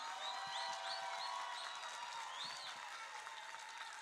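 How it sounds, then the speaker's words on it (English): Audience at the State of the People National Assembly in Baltimore applauds steadily at moderate distance, a continuous dense wash of clapping with a few faint cheers and whoops. "rise to your feet and clap it up for Marilyn Mosby's Freedom Day, y'all."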